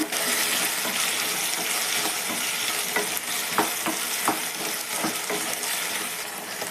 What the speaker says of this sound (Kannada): ಆಲೂ ಬಟಾಣಿ ಸೇರಿಸ್ಕೊತೀನಿ ಒಂದು ಸ್ಪೂನ್ ಉಪ್ಪು ಸೇರಿಸ್ಕೊತಿದ್ದೀನಿ ಚೆನ್ನಾಗಿ ಫ್ರೈ ಮಾಡ್ಕೊಳ್ಳೋಣ